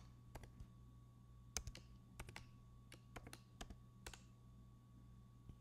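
Quiet keystrokes on a computer keyboard as a password is entered, a dozen or so irregular taps over a few seconds, close but faint, with a low steady hum behind them.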